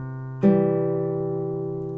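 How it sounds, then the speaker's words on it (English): Classical guitar notes from a Sagreras lesson sound steadily before a fresh pair is plucked and left to ring, sustaining and fading slowly, clear and close with no talking. "This time, we're only going to play the first pair of notes staccato and the second pair of notes as written."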